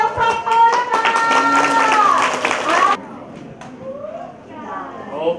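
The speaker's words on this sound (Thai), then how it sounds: "ขอเสียงปรบมือนะคะ" Audience applause at an agricultural packing-house opening in Lampang, a dense burst of clapping for about three seconds that cuts off abruptly, followed by quieter crowd chatter and voices.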